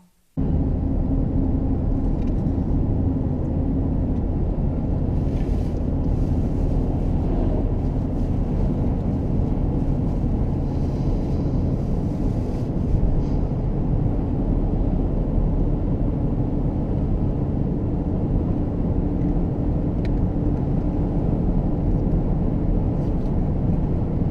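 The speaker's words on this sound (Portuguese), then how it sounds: "Até vou deixar um trecho aí sem nenhum comentário para vocês ouvirem como que estava mais ou menos a experiência de andar no carro." A Chevrolet Vectra GLS cabin while driving: a steady, loud low rumble of engine, tyres and road noise fills the interior without a break for over twenty seconds.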